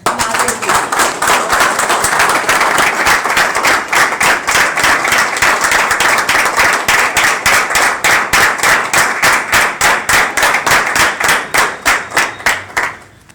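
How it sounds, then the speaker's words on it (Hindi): Audience clapping in a hall during a motivational speech, a loud, even rhythmic clap in unison that keeps a steady beat for over ten seconds before fading out at the end. "आज वो आई हुई है, उनके लिए तालियां हो जाए।"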